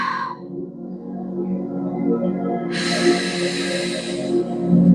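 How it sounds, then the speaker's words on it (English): Deep breaths during a stress-relief stretching exercise: a breathy inhale through the nose, a pause, then a long, loud, hissing exhale, close and with no speech. "We're gonna take a few deep breaths."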